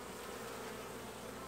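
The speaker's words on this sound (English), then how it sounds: "Look at how many bees there are." A dense, steady hum of many buzzing honey bees from a swarming hive in Australia, close and continuous.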